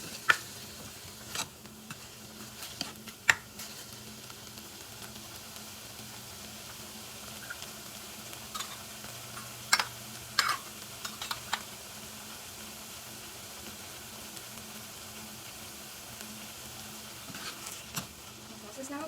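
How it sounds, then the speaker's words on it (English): Mushrooms and vegetables sauté quietly in a pan for a vegetable Manchow soup, a soft low sizzle broken by scattered ticks and scrapes of stirring, close and fairly faint. "I'm going to saute it for about 2 or 3 minutes till it gets a bit tender"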